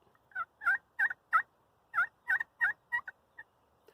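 A turkey pot call yelps in short rhythmic bursts, about a dozen clear raspy notes in two quick series, alone and close.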